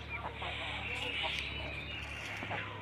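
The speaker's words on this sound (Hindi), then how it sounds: "ये इधर जो अच्छे है वो मुर्गी है" Hens and a rooster clucking close by in a farmyard with chicks, soft continuous clucks mixed with a person talking over them.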